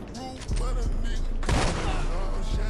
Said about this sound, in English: You shooting the NPCs, boy.